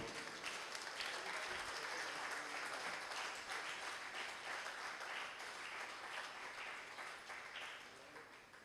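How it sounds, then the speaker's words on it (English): A hall audience at a brotherhood day gathering applauds loudly and continuously, a thick even clatter of many hands that fades a little toward the end. "Brethren, this applause has to be loud."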